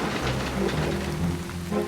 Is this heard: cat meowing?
no